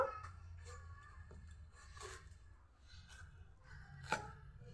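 Knife slicing through an ash gourd (chal kumro) in a home kitchen, a few soft irregular cuts and scrapes with a sharper chop near the end, close and moderately quiet.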